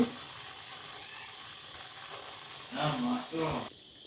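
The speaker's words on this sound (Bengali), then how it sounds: "শাকটাকে আমি 4-5 মিনিট ঢেকে সিদ্ধ করে নেব।" Homegrown garden greens cooking in a pan: a soft, steady sizzle that swells into two louder bursts of stirring and crackling near the end.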